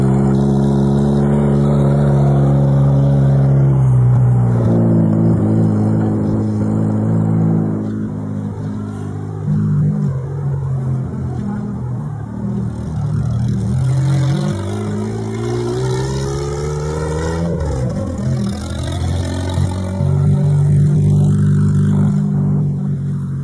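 A Volkswagen Polo engine runs close and loud, rising and falling with revs as the car accelerates, the tone sweeping up and settling over a long stretch with no talk.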